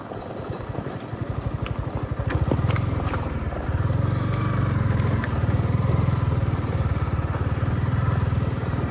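A motorcycle rides off-road on a mountain route, its engine thrumming in a close, steady pulsing chug that builds after the first couple of seconds and holds, with rattles and knocks from the rough track.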